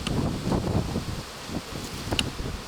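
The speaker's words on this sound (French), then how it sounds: "Alors là il y a un coup de vent." Outdoors beside a beehive, a gust of wind roars as a broad, rushing blow across the microphone, steady for a moment and then easing slightly.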